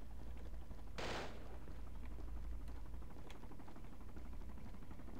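Rifle gunfire crackles during a defence of a forward operating base in the military shooter Project Reality, with one sharp close shot followed by fainter, scattered distant reports over a steady low background rumble.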